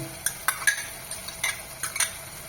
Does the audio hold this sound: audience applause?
no